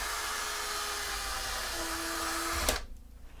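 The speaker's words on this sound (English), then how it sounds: "I have to drill a bigger hole" A power drill boring a larger hole in wallboard, a steady close whine that runs loud and alone, then cuts off sharply near the end.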